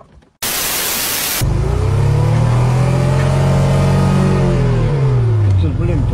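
A car engine revving hard with the gas pedal floored during a driving-licence test, a loud sustained roar with rising and falling harmonics that starts abruptly after a burst of noise, staying steady and close for several seconds.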